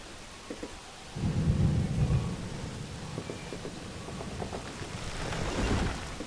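Heavy thunder from the Viking settlement-building video game Banished North rolls in as a loud, sustained low rumble about a second in, swelling again near the end, with steady rain-like noise beneath.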